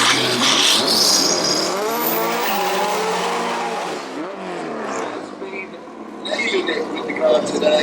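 A Seat car and a flat-four VW Beetle launch side by side in a no-prep drag race, engines roaring loud and close with tire squeal, the noise fading as they pull away while a commentator talks over it.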